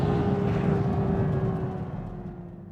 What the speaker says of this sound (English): So the RS wins the drag race, of course it does